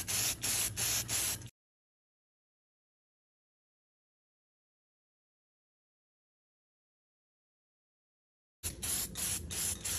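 Matte black spray paint hissing from an aerosol can onto Harley fork tubes, in two steady bursts, one at the start and one at the end, separated by silence.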